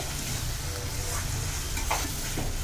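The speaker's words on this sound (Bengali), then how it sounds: "ভালোভাবে নাড়িয়ে নিতে হবে 5-6 মিনিট।" Shrimp being stirred in a spiced masala in a pan, a steady close sizzle with faint scraping of the spoon running continuously throughout, no voices.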